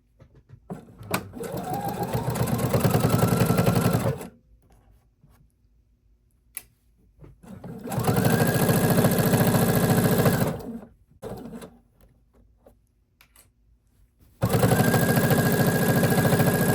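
A sewing machine stitches along the edge of a minky and fleece blanket in three separate bursts of a few seconds each, a steady close whirring with quiet pauses between runs.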